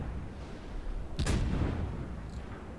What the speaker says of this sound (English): He's shooting me, so I'm going to shoot and turn in and hope that I can bounce his salvo.